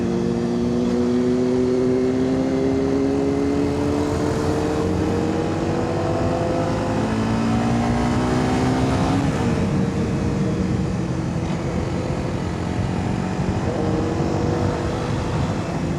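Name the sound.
Honda CBR 250R motorcycle riding at speed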